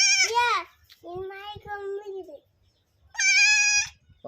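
A day-old newborn goat kid bleats in short, high, wavering cries close by, with a lower-pitched bleat between them and quiet human sounds in the background.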